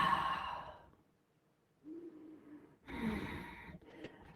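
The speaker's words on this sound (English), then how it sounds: "You're going to hear your breath come in through your nostrils, hear your breath come out with your mouth closed." Ujjayi yoga breathing through the nostrils with the mouth closed: a long raspy exhale that fades to silence, then two audible nasal breaths with a hoarse, throaty hiss, close and alone.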